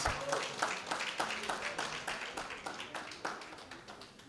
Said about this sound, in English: Can you clap for Lagos State?